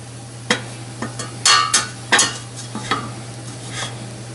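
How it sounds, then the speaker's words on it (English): Eggs cracked one at a time into hot choux paste in a pan with the heat switched off, heard as irregular sharp taps and scraping knocks, close and moderately loud, over a steady low hum. "turn the heat off completely and start cracking the eggs into it one at a time"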